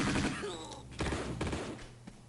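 Uzi fire in Tomb Raider 2, a few dense bursts of rapid shots over game sound, with someone talking across part of it.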